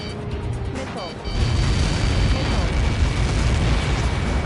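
A large blast in the video game Ace Combat 7 after an incoming projectile strike, a loud booming explosion that swells at about the midpoint and then rumbles on steadily to the end.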